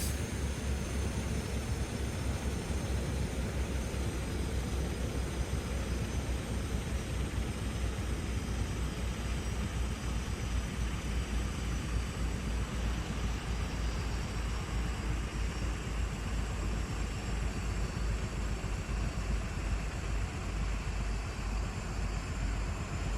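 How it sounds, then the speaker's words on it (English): Westland Scout or Wasp helicopter in a flight simulator game winding down after engine shutdown, a steady broadband turbine and rotor whine with a low rumble, loud and unchanging throughout. "We'll just let the helicopter wind herself down now."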